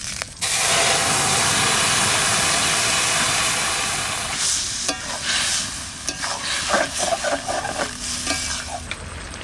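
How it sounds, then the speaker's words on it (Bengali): Dry red chilli, bay leaf and whole cumin hit hot oil in a pan with a sudden loud sizzle. The hiss gradually settles and is broken by stirring scrapes and crackles, close by with no talking. "ফোড়ন দেবো, তেল দিলাম, শুকনো লঙ্কা, তেজপাতা আর দেব গোটা জিরে"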